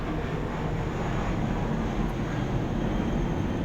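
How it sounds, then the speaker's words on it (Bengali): A train runs along an overhead track close to an airport, making a steady, broad, rumbling roar that stays at an even, moderate level throughout with no voices. "ট্রেন যাচ্ছে ওপর থেকে"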